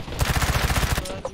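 Rapid automatic gunfire in the video game Undawn, a loud burst of evenly spaced shots lasting about a second before cutting off.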